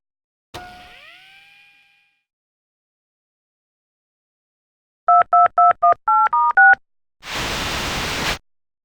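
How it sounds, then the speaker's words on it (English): A video phone in the Tex Murphy: The Pandora Directive game dials out: a short string of crisp touch-tone beeps in quick rhythm after a ringing metallic twang, ending in a burst of static noise. "My new vid phone is essential."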